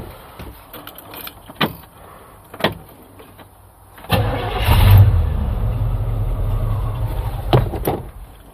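An old car with carburetor trouble being cranked, a few brief clicks and knocks, then the engine turning over and catching into a rough, rumbling idle for several seconds before easing off.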